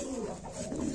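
A pigeon gives a short, soft, throaty coo close by.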